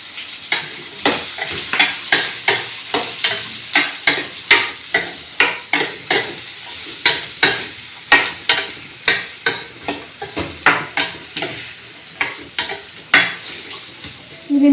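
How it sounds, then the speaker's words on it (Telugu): Onions, cumin seeds and curry leaves fry in a pan over a steady sizzle, punctuated by a regular rhythm of loud spatula scrapes and clanks against the pan. "కొన్ని జీలకర్రలు కరివేపాకు వేస్తున్నాం. ఉల్లిగడ్డలు అయితే వేస్తున్నా."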